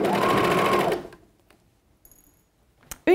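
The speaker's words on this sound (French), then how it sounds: "Ça va être de coudre les coutures de côté. Donc comme tout à l'heure, ou à la surjeteuse ou à la machine à coudre au point zigzag." Sewing machine zigzag stitching the side seams of a swimsuit, a close, rapid mechanical whir for about a second, then near silence before a brief clunk and a fresh burst at the end.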